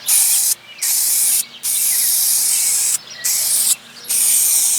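A VW Golf Mk4 engine gets a second coat of spray paint, with five loud close hissing spray bursts separated by short pauses.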